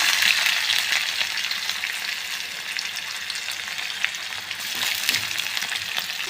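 Chopped onions, green chillies and curry leaves fry in hot oil in a pan for paddu, giving a steady, close, dense sizzle that holds evenly throughout with no voices.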